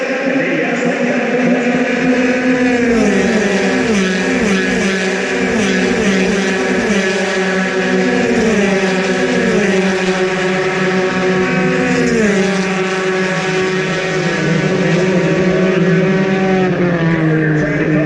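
USF2000 open-wheel race cars at the GMR Grand Prix road course, several engines screaming loudly past one another with rising and falling pitch as they shift gears through the corners, continuous throughout with no talk.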